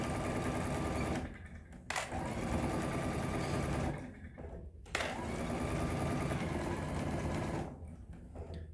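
A sewing machine stitching a quilted book pillow runs in three steady, fast-whirring bursts separated by brief pauses, close and moderately loud, with no talking.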